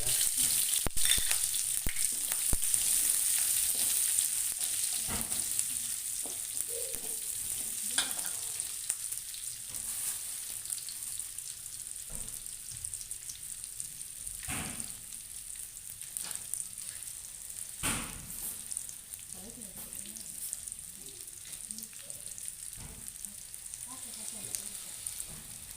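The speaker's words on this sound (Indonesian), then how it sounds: "kita goreng bumbunya dulu ya" Spices for a fish dish in oyster sauce fry in hot oil at home, giving a steady, close sizzle with occasional sharp knocks of stirring throughout.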